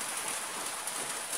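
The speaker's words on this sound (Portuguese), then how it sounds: "está chovendo muito forte" Heavy rain falls in a steady, even hiss, dense and unbroken, with no voices over it.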